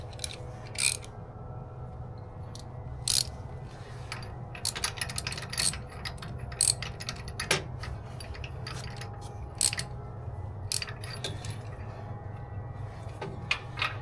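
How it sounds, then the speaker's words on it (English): A ratchet tightens a bolt on an e-bike rack, with sharp clicking and metallic ticks scattered irregularly over a low background hum, close and fairly quiet. "tighten this bolt down where it goes. So turn the ratchet the right way"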